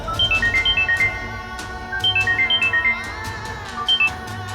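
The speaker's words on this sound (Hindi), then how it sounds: "ये फोन क्यों नहीं उठा रहे?" Mobile phone ringtone chiming a repeating melodic pattern in short bursts, ringing on unanswered, fairly loud and close in a domestic setting, no voices over it.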